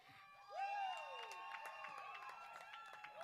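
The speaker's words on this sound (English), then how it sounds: "with her own cheering section." Crowd cheering and whooping at a high school graduation ceremony, several bright voices rising together into a steady, lively roar that holds without pause.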